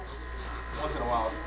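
Electric hair clippers buzz steadily at close range during a bald fade, with a faint voice underneath.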